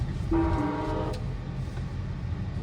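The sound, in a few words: tram passing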